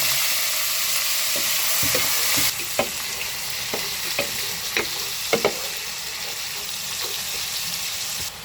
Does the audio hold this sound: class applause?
no